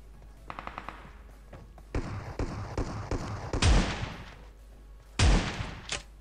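Grandfather's shotgun fires in a video game, several heavy booming blasts spaced a few seconds apart, each followed by a lingering tail, preceded by a quick series of lighter clicks and thumps.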